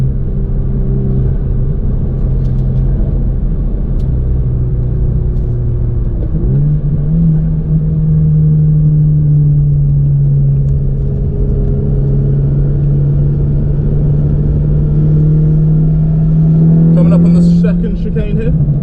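A VW Scirocco R engine driving on the Castle Combe track, a loud steady in-car drone that shifts pitch partway through and holds, with a voice talking over it near the end.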